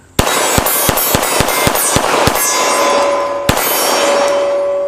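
Gunshots striking a steel target at a shooting range, a quick series of loud sharp reports with metallic clangs, then a pause and one more shot whose ringing steel tone lingers.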